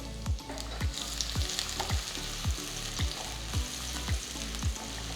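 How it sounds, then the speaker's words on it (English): Sliced garlic sizzles steadily in a tablespoon of hot oil in a wok, with a regular rhythm of soft stirring scrapes recurring about twice a second, close and moderately loud with no talking. "Next, add the sliced garlic."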